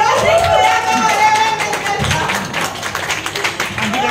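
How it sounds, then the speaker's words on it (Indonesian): A small group claps for Maeli on a horror show set in Indonesia, quick, scattered handclaps rising and falling over a few seconds, with voices talking over them. "Tepuk tangan untuk Maeli."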